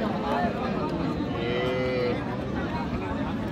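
Desi cows and calves at the Raniganj cattle market in Ghoraghat, Dinajpur give a long, drawn-out moo near the middle, set against a steady bustle of the market crowd.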